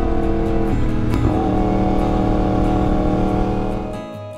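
A Yamaha R1 superbike engine revs loud and close with a strong harmonic whine, sustained and then easing off and dropping away sharply at the end.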